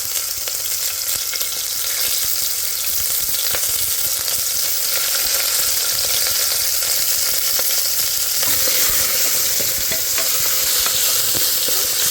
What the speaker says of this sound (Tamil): இந்த நேரத்தில் கருவேப்பிலை வெங்காயம் போடுவோம்.